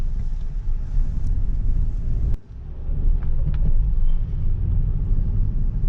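Maruti Suzuki XL6 2020 BS-6 petrol MPV driving on the road, a steady low engine and road rumble heard from inside the cabin, with a brief dip in noise midway before the drone resumes.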